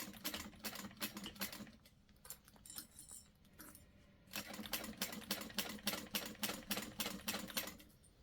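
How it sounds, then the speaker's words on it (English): A sewing machine stitches through several layers of woven fabric and heavy interfacing, running in rapid bursts of mechanical clatter with a short pause midway before resuming. "so I'm going to stitch on this side"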